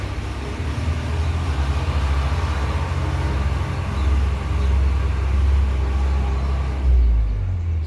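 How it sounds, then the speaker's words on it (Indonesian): A passing car outside gives a loud, low rumbling drone that swells and holds for several seconds before cutting off abruptly, with no talk over it. "Bentar ya, ada mobil lewat, suaranya agak bising."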